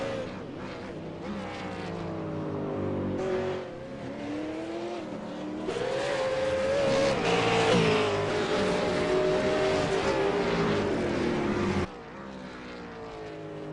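A V8 Supercar lapping Oulton Park at race pace, its engine note rising and falling through gear changes and corners, loud and close for most of the lap before easing off near the end, with commentary faintly underneath.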